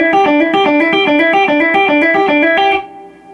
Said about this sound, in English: the first hybrid picking lick that I think you should learn is basically, I'll play it for you